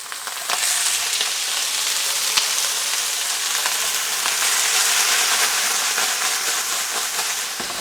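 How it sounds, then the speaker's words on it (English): Apples tossed into a hot pan fry with a loud, dense, continuous sizzle close up, with a few faint clicks of stirring and no voices. "We're gonna toss our apples into this nice hot pan."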